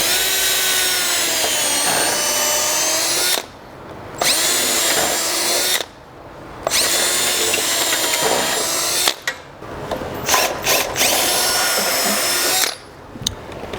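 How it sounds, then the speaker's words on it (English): A power drill bores out the rubber trailing arm bushing on a Chevy or GMC truck, a loud continuous whine in long runs broken by brief pauses and short stop-start bursts, with no talking. "We're going to get a drill and we're just going to drill out all of this rubber around here"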